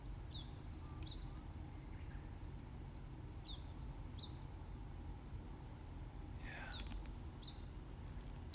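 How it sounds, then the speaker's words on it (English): Birds chirp and call in scattered short phrases over a steady low rumble at a Japanese resort in Yamanashi near Mount Fuji, the song fairly faint and distant with no talking. "And the birds."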